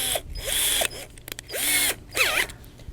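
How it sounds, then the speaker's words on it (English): A cordless drill with a nut driver whirs in several short bursts with pitch rising and falling, stopping and starting as it drives a clamp nut close by. "put the blade of the nut driver into your battery drill"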